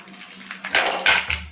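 Oiled knife slicing into a raw jackfruit, two short rough crunching cuts close by, each a burst of coarse scraping, with a faint low hum in the background and no speech.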